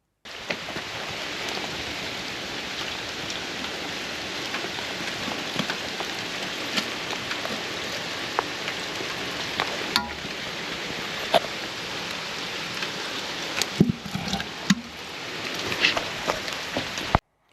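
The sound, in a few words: rain falling at a transport yard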